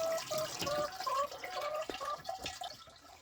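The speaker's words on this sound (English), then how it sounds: "You can hear the water here filling up the tote." Water trickles and drips steadily into a plastic tote at a chicken coop in winter, with bright bubbling, gurgling tones rising and falling close by.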